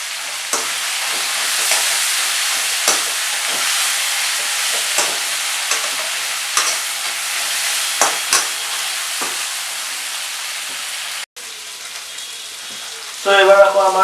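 Crab sizzling and frying in a pan, Assamese style, with a steady crackle punctuated by repeated scrapes and clacks of stirring, close and loud; near the end the sizzle briefly cuts out and then flares up again more strongly.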